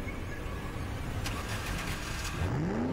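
A car engine rumbles low and steady, then climbs into a rising rev near the end, alone without voices.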